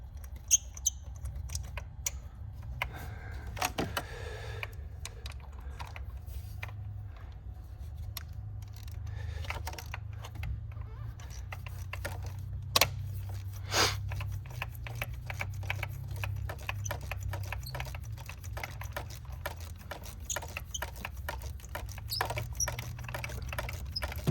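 A long ratchet tightens spark plugs on a BMW X6, giving quick, dry, close clicks in bursts and scattered single ticks over a faint low hum.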